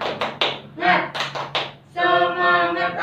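A classroom group performs the 'tepuk semangat' clapping routine, with sharp rhythmic claps in quick bursts followed by a stretch of sustained voices.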